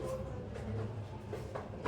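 A Mumbai suburban local train runs out of Panvel with a steady, faint, low rumble and clatter, and no voices over it.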